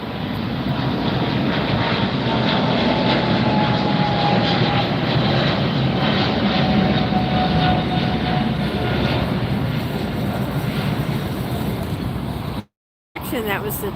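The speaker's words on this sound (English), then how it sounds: "That was the Turkish Airways flight just taken off." A Turkish Airways jet takes off at LAX at night, a loud continuous engine roar filling the whole clip with a faint rising whine, heard from a planespotting spot with no talk.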